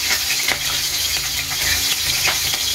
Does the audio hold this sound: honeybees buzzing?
no